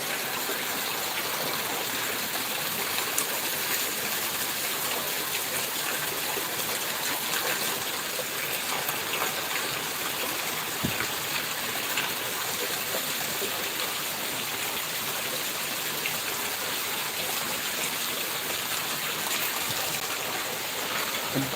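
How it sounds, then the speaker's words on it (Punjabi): Steady heavy rain pours down in a dense, continuous wash of noise, with gusts of wind and no voices. "ਮੀਂਹ ਆ ਜਿਹੜਾ ਜੋਰਾਂ ਨਾਲ ਪੈ ਰਿਹਾ ਹਵਾ ਚੱਲ ਰਹੀ ਹੈ"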